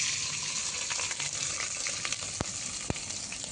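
Green chilies dropped into hot oil for Maggi noodles crackle and sizzle steadily, with a few sharp pops and light stirring clicks, close and moderately loud.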